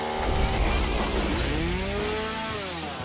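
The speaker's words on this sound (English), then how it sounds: "Chainsaw in hand, she's ready to bring it down" A chainsaw runs steadily while being used to cut down a pole, its engine buzzing loud and close with the pitch rising and dipping as the throttle changes, and no talk over it.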